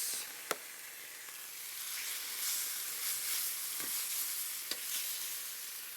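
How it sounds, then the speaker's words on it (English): Pork tenderloins browning in oil in a pan: a soft, steady sizzle broken by a few sharp clicks and knocks, heard alone without talk. "going to brown the tenderloins and then stick them in the oven"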